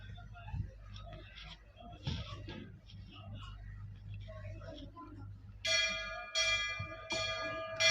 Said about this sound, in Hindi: बाजू में मंदिर है, मंदिर का घंटी बजता रहता है।